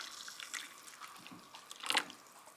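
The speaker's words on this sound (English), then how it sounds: "Pour our coffee in and melt that stuff." Coffee poured into a skull-shaped mug over collagen powder, a soft trickling liquid stream with a brief louder splash near the end, quiet and close with no talking.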